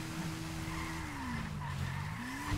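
A motorcycle on a worn, bad tire wobbles and skids, a steady engine drone with a sliding tire squeal that bends down and back up over a couple of seconds, fairly faint.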